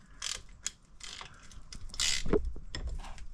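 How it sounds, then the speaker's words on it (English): Close ratchet wrench on a Honda CR-V bolt during a brake and fluid flush, with short bursts of mechanical clicking, metal scraping and a few clunks, no talking. "Bad boy ratchet back on there."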